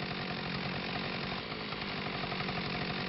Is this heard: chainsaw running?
yes